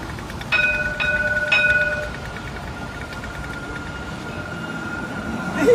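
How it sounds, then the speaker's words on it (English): A tram passes on a city tramway, heard as a rolling rumble with bright tonal squeals and a sustained whine that fade out, then a steady hum of traffic and street ambience with no talking. "It's the tramway, and that is the tram right over there."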